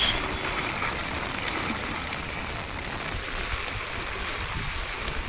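Heavy rain and strong wind beside a swelling river during a fishing trip make a constant rushing wash of noise from start to finish, with no clear voices.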